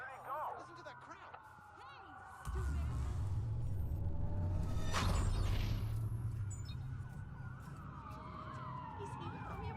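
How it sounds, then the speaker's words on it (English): Several police sirens wail in a video game blackout scene, overlapping rising and falling tones over a loud rumbling crowd and traffic roar, with brief bursts of game noise. "That's a lot of sirens for a blackout."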